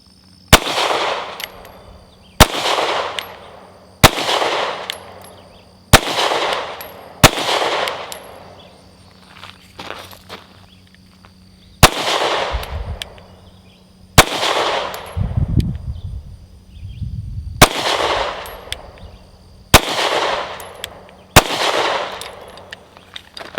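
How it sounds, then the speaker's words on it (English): A Sig P320 Compact pistol fires during limp-wrist reliability testing, five rounds strong hand only then five weak hand only. About ten sharp, loud, close reports ring out at a steady, unhurried pace, with faint clatter between them. "we're gonna do some limp wrist testing with this P320 Compact just to gauge reliability in stressful situations"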